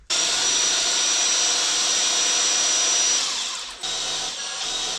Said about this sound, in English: maybe my drill is not fast enough